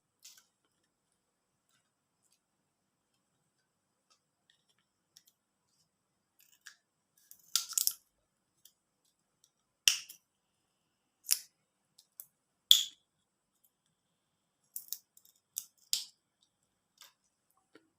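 Scissors snip recycled plastic straw into leaf shapes, a series of sharp, close cutting clicks spaced irregularly through otherwise quiet surroundings, with no talking.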